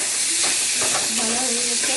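Cholar dal and prawn koftas frying in hot oil make a loud, constant hiss close by, with faint tonal sounds underneath.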